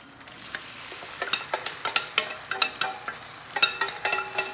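Squid frying with garlic and onion in olive oil, a soft sizzle beneath a run of crisp, regular clinks and scrapes of a utensil stirring in the pan, close and with no voices.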